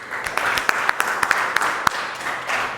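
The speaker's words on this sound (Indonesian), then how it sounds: "Kita beri aplaus untuk Mas Mubin." A small classroom group applauding for a student named Mubin, brisk uneven clapping from several people throughout, close and moderately loud, with a few sharper individual claps standing out.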